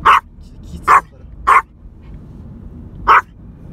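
A dog barks four times in short, separate bursts, heard inside a car on a drive around Machida near Sagamihara Park, over a low engine and road rumble.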